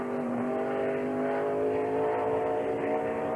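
A NASCAR Winston Cup race car on the Watkins Glen road course during 1999 qualifying, its engine droning loud and steady at high revs, close and continuous with no speech.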